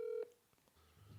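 A phone is dialed to make a call, giving a short, quiet electronic keypad tone followed by soft clicks and low background hum.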